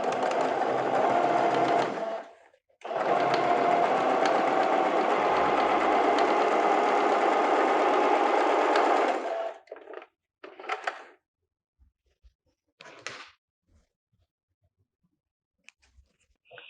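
Sewing machine topstitching a French seam: two long, steady runs of rapid stitching, close and clear, with a short pause between, followed by a few brief bursts and quiet handling.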